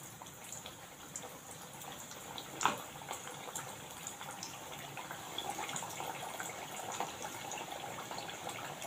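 Corn patties (makyache patties) sizzling as they fry in hot oil over a medium gas flame, a steady crackling hiss that runs throughout with a brief louder spatter early on.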